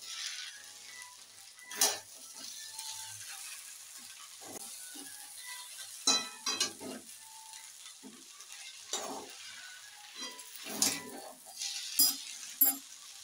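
Chowmein with garam masala tossed in a hot pan, a faint, quiet sizzle underneath with intermittent scraping and clattering stirring strokes that rise and fall irregularly, close by and without voices.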